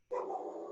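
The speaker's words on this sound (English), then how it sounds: "my dog is barking in the background." A dog barks in a continuous burst from a room nearby, a sustained, strained yelping that carries steadily through the short stretch with no speech over it.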